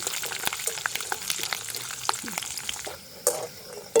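Peanuts frying in oil and being stirred, a steady crackling sizzle with scraping and clinks, then a brief quieter pause before a final clatter.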